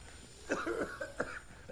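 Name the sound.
coughing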